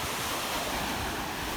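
Ocean waves wash onto the pebble and shell beach at Sandy Hook, a continuous broadband surf roar with some wind noise on the microphone, steady and fairly loud, with no talking.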